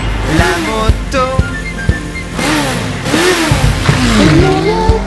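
A motorcycle engine revving as a sound effect within a French children's song, loud rising and falling engine whine blended with music and voices.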